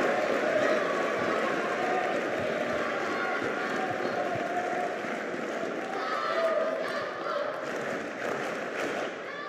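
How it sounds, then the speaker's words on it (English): A crowd roars and applauds steadily throughout a tense final-set table tennis match between Darko Jorgic and Kirill Gerassimenko in Ljubljana in 2024, a dense, loud wash of cheering with no clear break. "Crowd roar once more."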